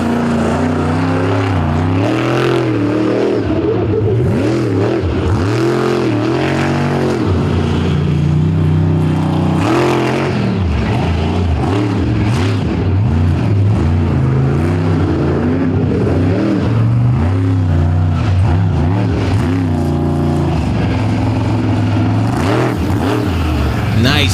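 Monster truck engines roar and rev at a freestyle competition in Indianapolis, a continuous loud drone with rising and falling revs across the whole stretch, under an announcer's commentary.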